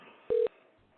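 A single short telephone keypad dialing tone, loud and clear for about a fifth of a second, over a faint background hiss with no talk.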